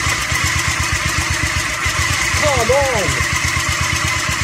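A Briggs & Stratton small engine runs steadily after a carburetor replacement, a loud close rapid chugging putter throughout, with an excited voice speaking over it.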